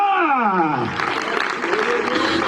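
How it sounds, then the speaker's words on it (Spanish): Church congregation applause swells in as a dense, ongoing clatter of clapping, starting under a preacher's sustained shouted voice that fades out, then continuing loud and close for a couple of seconds. "¿Cuánto le aplauden al pastor de pastores?"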